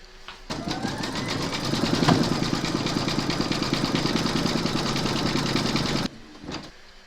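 An embroidery machine stitches gold thread in rapid, even, mechanical pulses, a steady close whir running for about five and a half seconds before stopping abruptly, followed by a brief softer mechanical sound.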